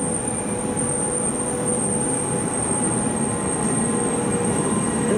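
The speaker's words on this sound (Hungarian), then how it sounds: "Rapid train departs to Győr at from platform 7." A train pulls out from a platform at Budapest Keleti station, giving a loud, steady rumble of rolling wagons with a thin, sustained wheel squeal running throughout.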